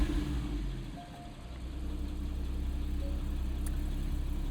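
A Porsche Boxster engine cranks and starts up somewhat sluggishly. It then settles into a steady, loud, close-up idle with a low rumble and no talking.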